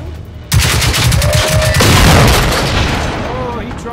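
Gunfire in Generation Zero breaks out suddenly as a dense, loud volley of booming shots that thins into a rumbling tail, with some speech mixed in.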